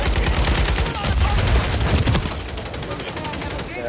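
Sustained automatic gunfire in Call of Duty MW3, rapid continuous bursts of shots crackling loudly for the whole stretch, with faint voices blended underneath.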